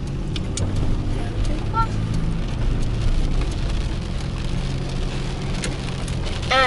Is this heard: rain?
yes